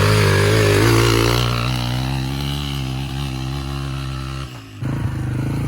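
A dirt bike engine climbs a hill in fifth gear, loud and close, its drone sliding lower as it labours, dipping briefly before picking back up, with no voices.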